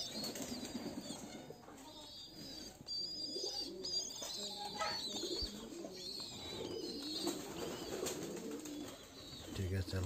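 Pigeons at a pigeon farm coo softly close by, mixed with bursts of wing flapping and faint chirps against low background noise.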